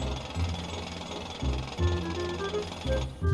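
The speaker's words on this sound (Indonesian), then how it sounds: "Mengebor." Power drilling on a construction job inside GTA 5, heard as loud, repeated jackhammer-like bursts of rapid pounding that start and stop in a steady work rhythm.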